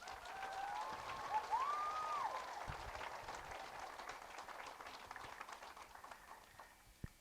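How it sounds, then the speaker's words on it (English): Applause from an outdoor crowd at a groundbreaking ceremony for a new middle school: steady, broad clapping that starts strong and slowly fades over several seconds. "so how about another round of applause for them?"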